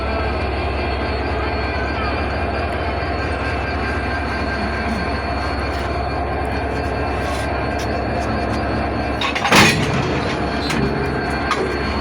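A train slowly couples to its cars at Ishwardi railway junction in Bangladesh, a steady loud rumble of engine and wagons with a sharp metallic clank of the coupling near the end, and faint talk in the background.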